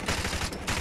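Rapid automatic gunfire in Call of Duty: Modern Warfare Remastered, a dense burst of repeated shots lasting under a second, loud and close.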